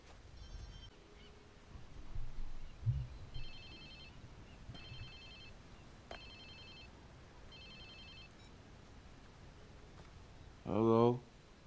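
A phone rings in the video game Watch Dogs 2, short electronic ring bursts repeating at a steady pace under faint background ambience, followed near the end by a brief louder warbling tone.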